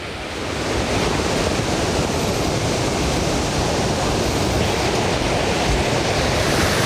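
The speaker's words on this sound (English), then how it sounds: "There you can hear the river down there roaring." A river roars below a viewpoint on the trail to the top of Multnomah Falls, Oregon, a loud, steady broadband rush of churning water with a hint of wind, constant throughout with no voices.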